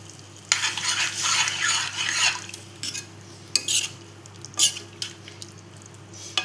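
Dal with bottle gourd is stirred in a pot: wet, squelchy sloshing with a few sharp clinks of a spoon against the rim, close by.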